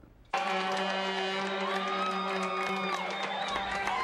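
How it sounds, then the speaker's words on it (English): Standing-room-only crowd of soccer fans cheering during a World Cup match in a packed sports bar, a sudden loud roar of voices and whoops that holds for several seconds before easing. "The standing room only crowd making a ton of noise"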